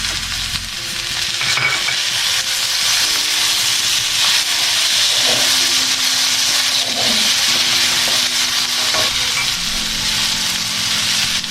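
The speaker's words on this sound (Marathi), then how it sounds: "कांदा तांबूस झाला की त्यात आता कापलेले टमाटर टाकतोय." Chopped tomatoes sizzle loudly in a pan of browned onion for masala Maggi, a steady, dense frying hiss that runs unbroken throughout, with a few soft stirring knocks.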